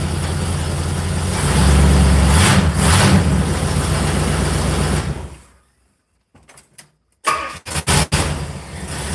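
A rough car engine runs loudly and steadily, then shuts off into near silence, followed by a few clunks and knocks.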